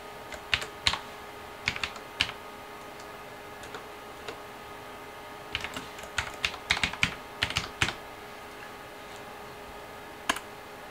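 Computer keyboard typing a name for text while preparing wooden pens for engraving: scattered bursts of sharp key clicks separated by quiet pauses, close and clear over a faint electrical hum.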